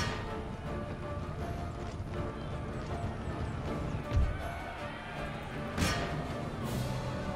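Cavalry horses in Empire: Total War, the Horse Grenadier Guards, make steady clip-clop hooves and neighing over a dense battle din, with two brief louder bursts.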